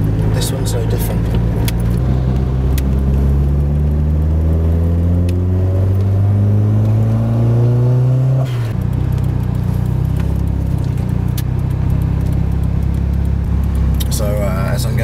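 Modified car engine droning and climbing in pitch through the gears while driving, dropping at a shift and rising again, steady and close from inside the cabin.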